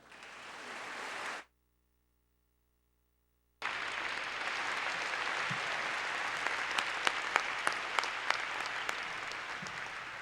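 A commencement audience applauds with dense, broad clapping. It cuts out abruptly for about two seconds, then resumes at full strength with sharp individual claps standing out near the end.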